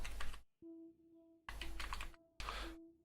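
Bursts of computer keyboard typing come in three quick runs of clicking keystrokes, close and fairly quiet, separated by short pauses with a faint steady tone humming underneath, while entering objectives in the Arma 3 mission editor.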